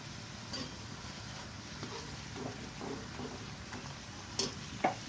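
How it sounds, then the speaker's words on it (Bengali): Luchi flatbread made from desi wheat flour deep-fries in hot oil, a faint, steady sizzle with a few small pops and crackles near the end. "সেই জন্য আমি এইভাবে ভেজে নেব।"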